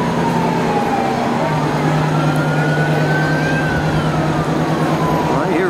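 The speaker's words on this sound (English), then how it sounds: "I hear a siren." A fire company ladder truck rolls by in a street parade, its siren wailing in long sweeping rises and falls over a heavy engine rumble and crowd noise, loud and close.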